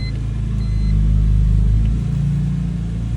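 A BMW M3 engine hums at a steady low rumble, swelling slightly as the car pulls away, then settling back into an even drone.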